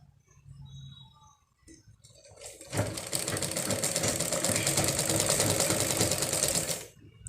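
A sewing machine stitching fabric at stitch length 5 runs in one continuous rapid, rattling burst of several seconds, close and loud, after a few quiet handling noises.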